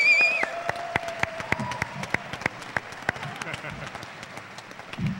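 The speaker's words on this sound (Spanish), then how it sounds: "les pido por favor que le demos un muy fuerte aplauso" Audience applause for actor Simon Williamson at a Star Wars fan event, steady clapping from a crowd with sharp individual claps standing out. A tonal whistle-like sound rises over the clapping at the very start.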